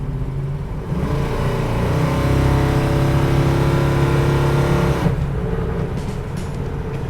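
A 1972 Plymouth Road Runner with a 440 engine accelerates hard, its deep V8 roar swelling and holding loud for several seconds before dropping back to a lower drone.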